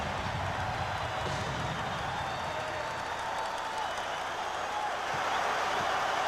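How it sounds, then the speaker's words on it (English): A basketball arena crowd at a 1995 NBA playoff game between the Bulls and the Magic razzes a free throw shooter, a steady wash of roaring, jeering voices with faint commentary underneath. "And the crowd starting to razz him."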